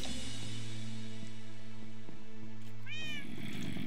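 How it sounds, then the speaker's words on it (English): Cat meowing in the Minecraft video game, a single clear meow near the end with rising and falling pitch, over steady game background tones. "Meow."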